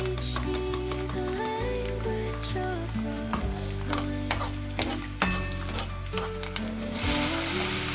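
Onion sizzling in hot oil with asafoetida, a steady loud frying crackle alongside stirring scrapes and a few utensil clinks, with background music throughout.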